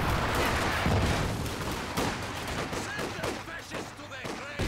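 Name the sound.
machine gun fire in Company of Heroes 2 video game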